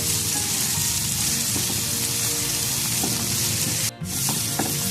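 Vegetables frying in oil for chicken popcorn pasta, a loud steady close sizzle with light stirring scrapes and a brief dip around the fourth second, no voices.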